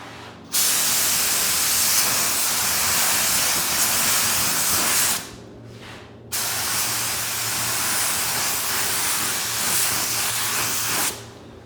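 Spray gun painting Toyota Celica GT4 suspension and drivetrain parts, a loud steady hiss in two long bursts with a brief pause between, no talk.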